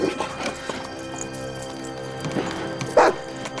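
A dog in a 1997 French family film barks in a few short, sharp bursts, with a louder yelp near the end, over a busy background that includes horse-like clopping.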